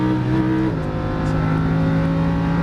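Lamborghini Huracan race car engine revving hard under throttle, a steady loud drone that drops in pitch at a gear shift, then keeps climbing, close and continuous with no voices.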